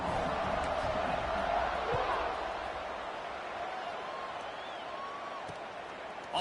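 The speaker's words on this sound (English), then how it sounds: "this crowd is buzzing after that last score" Stadium crowd in the College Football 26 video game buzzes as a steady, broad roar after a score, a continuous wash of noise without talk over it.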